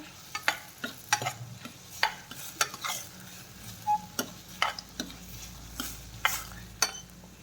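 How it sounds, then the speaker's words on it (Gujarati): Ridge gourd and chana dal fry in oil in a pan while a spoon stirs them, giving repeated sharp scraping taps at an irregular rhythm over a soft, close sizzle, with no talking. "વચ્ચે વચ્ચે આવી રીતે આમ ચમચો હલાવવાનો છે તમારે"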